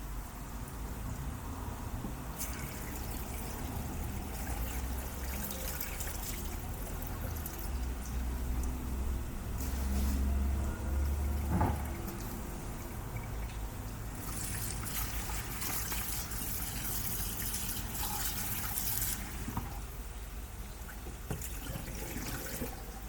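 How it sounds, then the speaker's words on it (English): Lemon-and-water soaking liquid trickles and splashes as it drains off soaked kidneys in a kitchen, a steady, fairly quiet pouring with a few louder gushes, no talking. "I'm going to drain the water off now"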